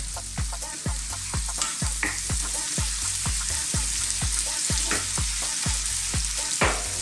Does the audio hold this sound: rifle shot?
no